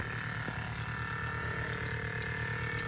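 An Anbull water transfer pump runs steadily after being plugged in, giving a continuous, even mechanical hum with a watery rushing texture and no voices over it.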